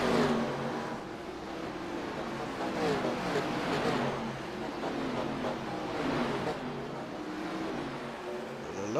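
NASCAR stock cars on pit road at Bristol Motor Speedway in the iRacing video game give a steady, continuous engine roar with rising and falling revs throughout, while a commentator talks over it.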